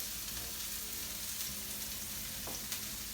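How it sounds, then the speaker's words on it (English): Sliced onion frying in vegetable oil in a pan, a steady dense sizzle held throughout at close range, with a light scrape of stirring partway through and no voices. "add the sliced onion to a pan with some vegetable oil in there, and just let that cook for about 5 minutes"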